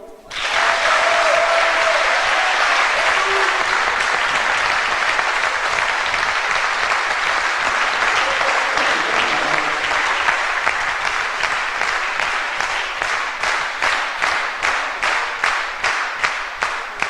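An audience at an 80th-anniversary celebration breaks into long, loud applause that rises sharply and holds, later settling into a slower, more rhythmic, pulsing clap before it ends.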